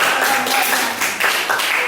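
Classroom students clapping hands together, a brief, loud burst of rapid claps from a group close by, lasting under two seconds.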